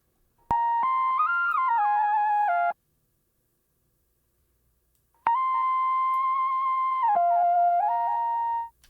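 A dry synth lead with no effects, built for a West Coast R&B sample, plays two bright legato melodic phrases with gliding pitch bends, separated by a few seconds of silence, loud and alone.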